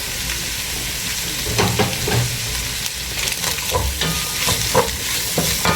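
A tablespoon of tomato paste goes into minced meat frying in a pan for a pasta sauce, a loud, continuous sizzle with repeated scraping stirs throughout.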